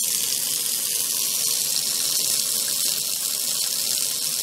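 Cold groundwater gushes from a tap in a steady, bright hiss, close and continuous, with no voices over it.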